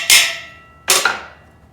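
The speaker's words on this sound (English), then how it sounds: "And then give the axle bolt a little love tap so it marks the tape." Two sharp metallic hammer taps on an axle bolt, striking tape to mark it, in a home workshop while building a shop-made oxy-acetylene welding cart; close, crisp hits about 0.8 seconds apart with short ringing decay.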